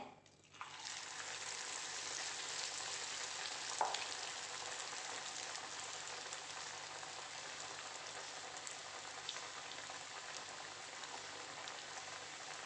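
Onion vada batter drops into hot oil and sets off a loud, rain-like crackling sizzle that begins abruptly and holds steady at close range, with one small knock early on and no voices.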